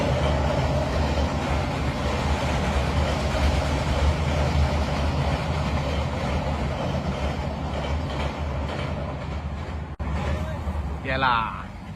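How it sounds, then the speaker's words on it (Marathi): A railway train passes nearby, a continuous heavy rumble with rolling wagon noise that holds steady, then a sharp knock and a brief higher-pitched sound near the end. "रेल्वेचा मस्त आपण शूट दाखवत होतो"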